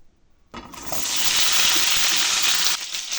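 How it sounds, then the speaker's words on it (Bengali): Potatoes go into hot oil in a home kitchen and a loud, steady sizzle starts abruptly after a quiet moment. The frying hiss stays strong and close, then eases slightly near the end. "এই দেখুন আলুটা ভাজা হচ্ছে"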